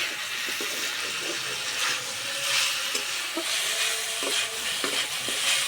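Chicken curry fries in a pan while being stirred, a continuous close sizzle with repeated scraping and clinking of a utensil against the pan in an uneven rhythm.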